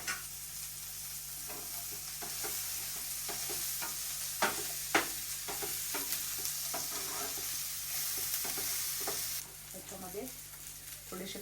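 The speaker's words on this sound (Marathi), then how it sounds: "कांदा आणि अद्रक लसूण ते बरोबरच भाजायचं त्याच्याबरोबर तेल टाकून" Chopped onion, ginger and garlic frying in oil reused from frying puris, a loud, steady sizzling hiss with scattered stirring knocks and scrapes in the pan; the sizzle drops a little near the end.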